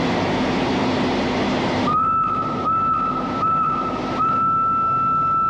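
A shrill, steady steam train whistle sounds in several long blasts with brief breaks, cutting over a rumbling, hissing rail background, in Thailand.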